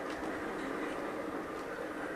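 A long scale model freight train hauling Caterpillar equipment rolls past on a model railroad depicting Aulne, Kansas, a faint, steady rumbling clatter with no talk.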